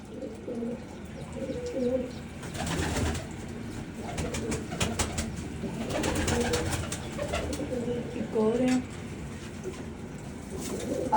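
A breeding pair of pigeons, a cock and a hen, coo in low throaty rolls that swell and fade repeatedly, nearby and fairly quiet, with some light rustling between calls.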